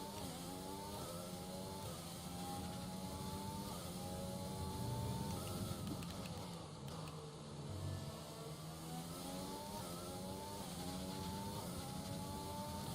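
Mercedes Formula 1 car engine in the F1 2020 video game, a sustained high whine that climbs through repeated gear shifts, steady and moderately loud throughout.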